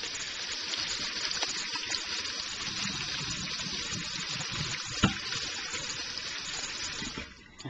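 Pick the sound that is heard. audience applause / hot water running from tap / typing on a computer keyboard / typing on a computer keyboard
hot water running from tap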